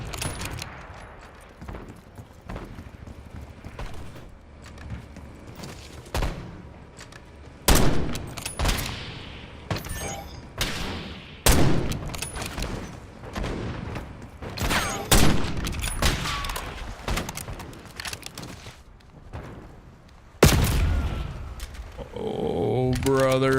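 Repeated sniper rifle gunfire in Call of Duty Warzone, sharp cracks landing in irregular bursts across a busy mix of game effects, with a voice talking at times.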